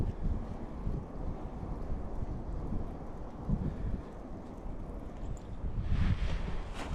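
Strong wind buffets the microphone beside a river during a fishing trip, a loud continuous roar that swells near the end.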